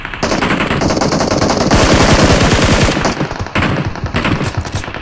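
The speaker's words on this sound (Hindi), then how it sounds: "इतना फायर, इतना फायर करते हैं।" Rapid automatic gunfire in the PUBG Mobile video game, with dense bursts of shots rattling almost continuously and a few brief pauses between volleys.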